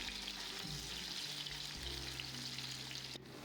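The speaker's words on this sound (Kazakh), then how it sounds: "пиязымызды жұмсарғанша қуырып аламыз." Onion fries in oil in a hot pan, giving a steady, close sizzle that stays even throughout with no speech.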